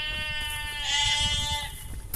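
A sheep bleats in a field beside the Thames Path near Little Wittenham bridge. One long, wavering, nasal bleat comes from close by and lasts about a second over faint outdoor background noise.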